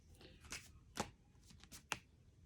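Tarot cards are shuffled in a few soft, quiet riffles and slaps, spaced irregularly across a couple of seconds with no talk.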